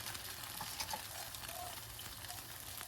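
Sri Lankan appam batter sizzles steadily in a hot pan, a constant soft crackling hiss with faint pops, moderately quiet and without talk.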